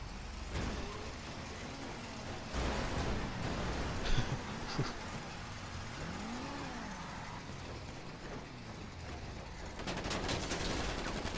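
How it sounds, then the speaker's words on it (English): Gunfire in GTA Online rattles among cars revving and ramming, with a few sharp bursts of shots mixed into continuous engine and traffic noise at a steady, fairly loud level. "He's shooting me."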